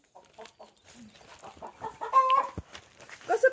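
Home-raised chickens cluck in short, uneven bursts close by, rising to a louder squawking run near the end, fairly quiet overall with no talking.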